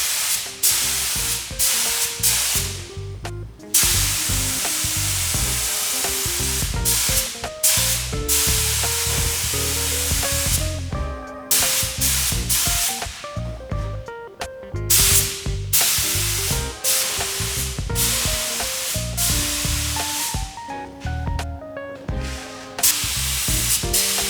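Spray paint hisses onto a Honda Civic EK Type R wing in long bursts broken by brief pauses, steady and close, with faint clicks in between.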